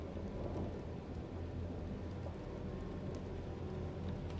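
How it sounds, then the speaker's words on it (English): Steady rainfall with a low rumble of thunder in a dark video game scene, continuous and even across the whole stretch, quiet overall with no voices. "The rain has been relentless for hours."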